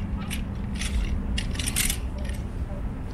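A camera tripod is unpacked and set up outdoors in Marseille, giving faint, scattered metallic clicks and light clinks over a soft background hiss.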